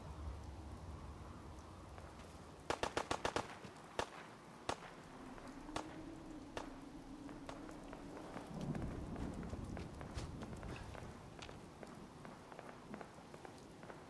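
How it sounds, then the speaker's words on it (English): Distant gunfire in the video game Fallout 4: a rapid burst of sharp cracks followed by scattered single shots, faint against a soft ambient background with footsteps. "Gunshots."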